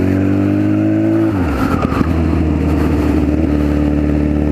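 A Honda Fireblade motorcycle engine drones loud and steady, then drops briefly and surges again as the bike accelerates hard, its strong engine note sustained throughout with no talk.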